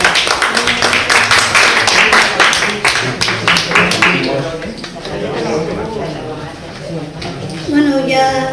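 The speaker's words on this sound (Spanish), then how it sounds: "os habéis adelantado un buen aplauso para la anfitriona del acto" Audience at a poetry gathering in Gandia applauding the host, a burst of rapid clapping for about four seconds that fades into murmuring voices and speech.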